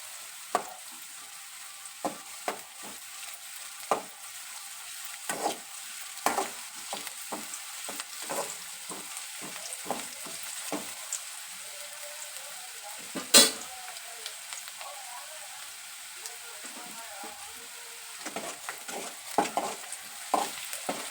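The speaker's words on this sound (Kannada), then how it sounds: "ನೋಡ್ರಿ, ಇದು ಉಳ್ಳಾಗಡ್ಡಿ ಹುರಿದೈತಿ" Onions fry in a pan while a spoon scrapes and stirs them, giving a steady soft sizzle punctuated by frequent metallic clicks and scrapes, one louder clank midway, all close up with no talking.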